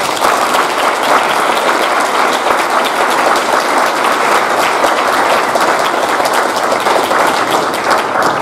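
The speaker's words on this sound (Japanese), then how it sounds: "拍手をお願いします。" Loud, sustained applause from a crowd at a 2022 victory celebration and send-off party, dense clapping running unbroken from start to finish.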